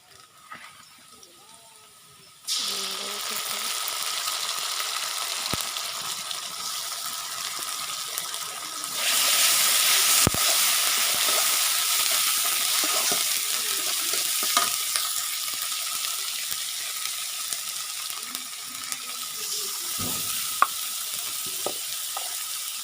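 Onions frying in a pan with ginger paste added give a steady, dense sizzle that swells louder partway through, with faint stirring scrapes and occasional knocks.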